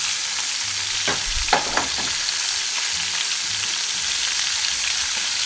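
Onions sizzle in a pot for chicken cacciatore while being tossed, a couple of sharp clattering stirs early on, then a steady, even frying hiss continuing alone.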